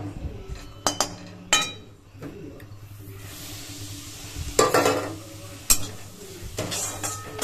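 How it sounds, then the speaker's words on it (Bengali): Semolina (suji) frying in hot oil as a metal spoon stirs and scrapes the pan, with a soft sizzle under repeated sharp clinks and scrapes at irregular intervals. "তো চলো আমি এখন সুজিটাকে ভেজে নিই।"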